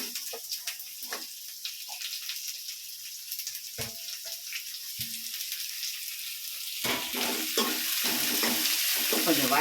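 Onion and curry leaves fry in hot oil for cauliflower thokku, a soft steady sizzle with occasional stirring clatter, growing louder near the end as the pan heats.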